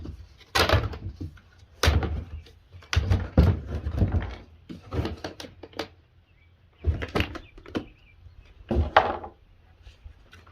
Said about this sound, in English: let's crack this bucket open and see what's inside.